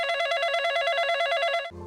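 A mobile phone rings with a steady electronic tone for most of the moment, then cuts off abruptly; no one speaks over it.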